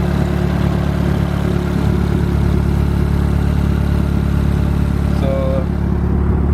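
A turbocharged Honda D16 engine runs loud and close with its boost turned up, and a dense, steady drone holds throughout without clear rev swings.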